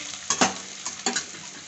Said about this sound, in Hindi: थोड़ी सी हम प्याज का सुनहरा होने देंगे